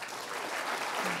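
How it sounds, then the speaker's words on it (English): A brief round of audience applause welcoming the first panelist at a Tuskegee Airmen event, moderate, continuous clapping for just over a second. "let's have a round of applause for our first panelist"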